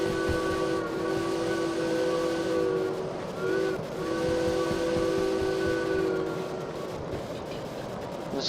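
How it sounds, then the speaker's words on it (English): In Derail Valley, an S282 steam locomotive blows its whistle in a long, steady, fairly loud blast. It falters briefly midway, then carries on over a hissing background. "The whistle."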